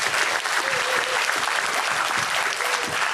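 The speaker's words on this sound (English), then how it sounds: "I'm going to clap for him." Audience applause at a symposium closing talk, a dense, even burst of many hands clapping together, loud and sustained throughout with no break.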